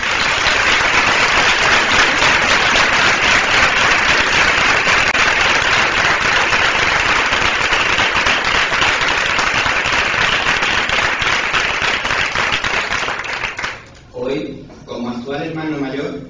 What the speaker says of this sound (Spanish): vayan hacia ellos el más caluroso de nuestros aplausos.